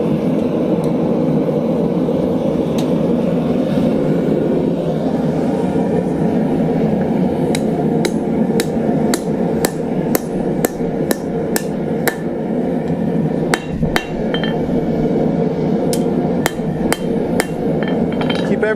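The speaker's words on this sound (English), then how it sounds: "We're going to drive the drift through one last time here." A hand hammer drives a drift through hot 3/8 inch steel stock during blacksmith hot punching, ringing out in a fast series of sharp, loud, close metallic blows over a rumbling forge background, with no talking.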